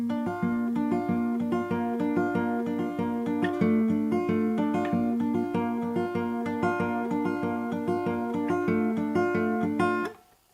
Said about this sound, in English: so quite early on in the track, in fact it's the second time round the chords, you can hear a guitar part.